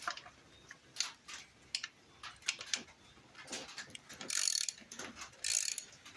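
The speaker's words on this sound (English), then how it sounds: "I'm not going to take this bolt all the way out yet since there's still one bolt down there in the bottom." A hand ratchet loosens a bolt on a four-wheeler during a diesel swap, heard as quick bursts of close clicking with short pauses between, fairly quiet and without speech.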